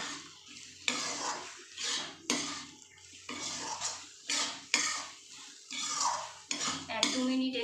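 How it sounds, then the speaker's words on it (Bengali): Diced potatoes are stirred and sautéed in a pan with a metal spoon, giving repeated scraping and clinking strokes over a soft sizzle, close and fairly quiet, with no talking. "আলুটাকে এর সঙ্গে ভালো করে কষিয়ে নেব।"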